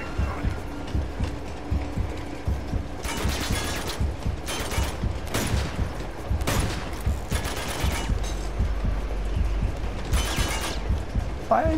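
Gunfire in Uncharted: Among Thieves, with repeated loud bursts of shots and automatic fire recurring in clusters over a steady din of action, and a voice speaking briefly.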